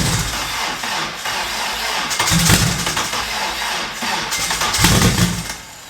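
A stubborn engine cranks and tries to start, a steady churning drone that swells in two louder surges as if catching briefly, loud and close with no voices.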